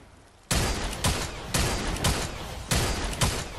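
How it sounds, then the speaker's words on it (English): Rapid bursts of ghost pistol gunfire in Fortnite Save the World, six or so sharp punchy shots in uneven pairs after a brief quiet start, loud and close. "Ghost pistol in action, not aiming through the hole, and the hits are coming through."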